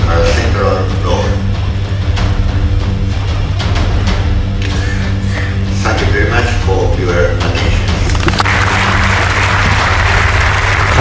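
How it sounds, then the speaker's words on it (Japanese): Large audience applause after a Nobel lecture on batteries, dense sustained clapping in a big hall with a steady low hum underneath and a voice speaking over it. "もうこの日一番の大きな拍手に包まれていました"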